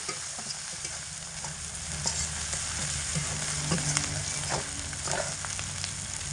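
Spices fried over a medium flame for a chital stem curry, giving a continuous loud sizzle with occasional stirring scrapes close by, no voices.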